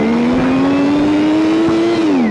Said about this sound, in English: It's also the only Warthog that sounds like it has an infinitely variable transmission.